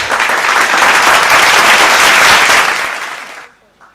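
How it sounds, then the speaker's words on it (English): Loud audience applause at a live awards show as presenters walk on stage, dense sustained clapping that swells for about three seconds and then dies away quickly. "Let's give them both a big, big round of applause as we welcome them on the stage"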